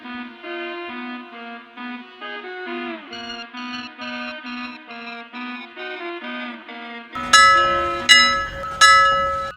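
A ringing bell tone sustains with rich overtones, then three louder sharp strikes ring out and decay near the end.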